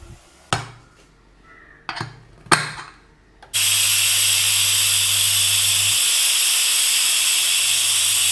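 A few sharp metallic clanks, then a loud, steady hiss of steam bursting from a pressure cooker cooking meat, continuing unbroken.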